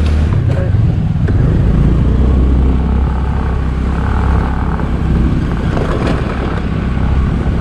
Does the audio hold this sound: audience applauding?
no